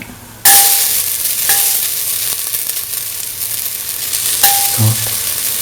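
Ginger drops into a hot pan for a lentil and ground coconut stew, bursting into loud, close sizzling that holds steady, with light clanks of a utensil against the pan near the start and end.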